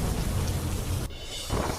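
Torrential rain with thunder and wind pours down in Vyara, Tapi, Gujarat, a dense, close roaring wash that dips briefly midway and then surges back over under two seconds.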